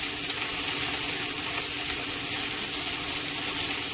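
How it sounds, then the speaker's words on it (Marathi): Onion, chili and garlic sautéing in a pan give a steady, close sizzle with dense, even crackle throughout and no pauses or voices. "आता हे सर्व आपल्याला परतून घ्यायचं आहे।"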